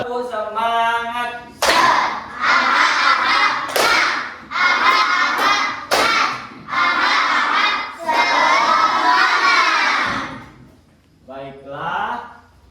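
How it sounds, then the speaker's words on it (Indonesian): A group of children claps a rhythmic spirit clap in a classroom, bursts of claps and shouted chants alternating in a loud, close run of phrases. "sekarang kita tepuk semangat dulu ya"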